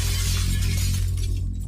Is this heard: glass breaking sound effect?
yes